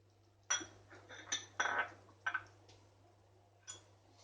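A spoon clinks against a pot while prawn masala with added water is stirred, producing a few sharp metallic taps and scrapes spaced irregularly over near silence.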